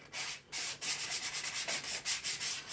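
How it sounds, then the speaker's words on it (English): Hand sanding of armor parts with 400 grit sandpaper gives close, rhythmic rasping strokes in quick repeated passes with short pauses between. "And I start out with 400 grit sandpaper. And I go around all the places I bevel, smooth them out"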